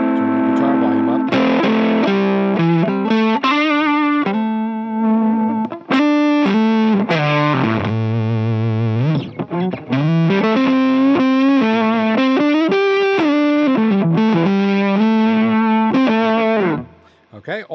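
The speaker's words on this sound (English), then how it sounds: "even with the fuzz cranked here, when you got your guitar volume down" An electric guitar through a fuzz pedal plays a series of fuzzy, distorted chords and notes, loud and sustained, with short gaps between phrases before fading at the end.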